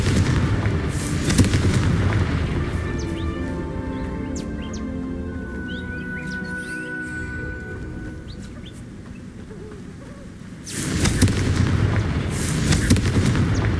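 Confringo fire spell blasts in Hogwarts Legacy erupt in repeated booming bursts, with game ambience and birdsong in between and a strong explosive surge near the end.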